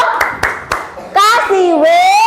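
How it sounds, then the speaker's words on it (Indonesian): Children in a classroom clap in three quick, sharp bursts, then young voices call out in a rising, drawn-out cheer. "Kita beri tepuk tangan."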